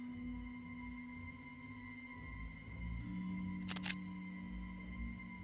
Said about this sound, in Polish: Emma also zoomed in and took a picture of the coal spray can lie next to Noah.